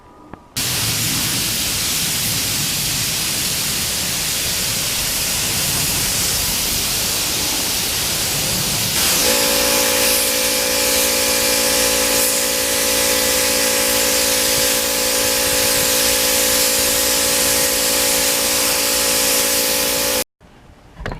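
A spray gun lays clear coat onto motorcycle fairing parts during a Ninja restoration, producing a steady, loud broadband hiss that runs almost unbroken for about twenty seconds, with a faint compressor or motor hum joining partway through.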